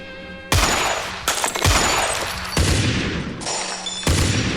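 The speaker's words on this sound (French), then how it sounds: "Il y a des échanges de coups de feu." Loud gunfire exchanged in several sharp bursts, each crack echoing heavily before the next volley.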